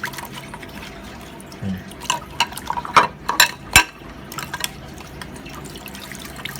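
A cuttlebone rinsed under water, a close run of brief splashes and drips clustered in the middle, over a steady low background, with no one speaking.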